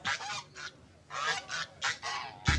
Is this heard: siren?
no